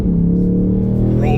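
A 2024 Ford Mustang Dark Horse engine drones loudly and steadily from inside the car while driving, its pitch climbing near the end as it accelerates.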